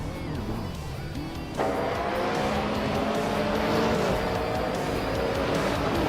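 GTO and BTCC race cars roar through the tight Monaco street circuit, engines droning loudly and steadily, with the sound jumping louder partway through as cars close in, and faint tire squeal under the din.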